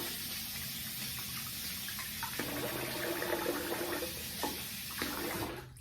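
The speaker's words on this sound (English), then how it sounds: "All right, so I'm gonna rinse the face here." Water runs and splashes at a bathroom sink as a face is rinsed after a wet shave, a steady nearby gush with irregular splashing that swells midway, then cuts off, with no talk.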